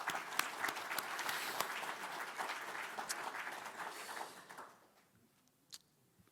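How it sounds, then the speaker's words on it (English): A hall audience at a Distinguished Service Award ceremony claps warmly and steadily, the dense applause tapering off after about four seconds into near silence with one last stray sound. "A big round of applause for him."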